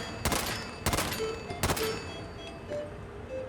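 Pistol gunfire in Fallout 4 in a Nuka World setting: three sharp shots spaced less than a second apart ring out loud and close, then a few fainter game sound effects follow.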